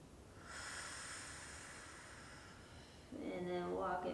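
Deep, slow breaths during a hip stretching exercise, a long airy inhale followed after a pause by a breathy exhale with a faint voiced tone, close and quiet.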